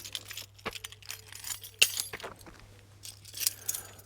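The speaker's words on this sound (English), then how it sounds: "Drop me bloody keys." Keys clatter as they are dropped, a few bright metallic jangles and clinks scattered over a quiet outdoor scene, fairly close and moderately loud.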